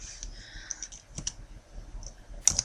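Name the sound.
typing a number on a computer keyboard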